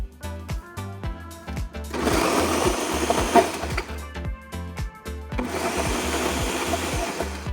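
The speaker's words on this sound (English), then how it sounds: "we start with the pepper and we blend it several times until it's as smooth as possible" Blender pureeing ají amarillo and ají limo peppers for a Peruvian huancaína sauce, a loud steady motor roar in two long bursts, preceded by rapid pulsing starts, with no talking.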